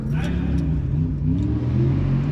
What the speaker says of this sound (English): The racing Jeep. Well, that thing sounds like it's a lot of fun.